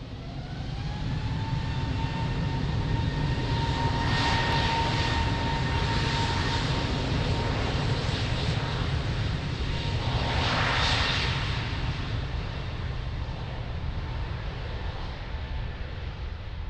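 An airliner takes off from runway 02 at Lisbon Airport, its engines roaring steadily throughout with a broad, constant wash of noise and a rising whine, no talk over it.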